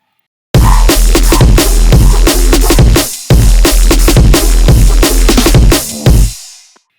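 A heavily filtered main synth from an electronic drop, with lots of automation, playing dry and loud in a steady pulsing pattern with a brief gap midway before fading out.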